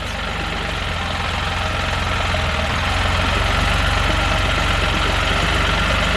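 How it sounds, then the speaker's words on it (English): A BRP Ryker three-wheeled trike engine idles close by, a loud, even low rumble with a steady rapid pulse that holds throughout and swells slightly partway in, with no talk. "So let's go ahead and turn the bike on."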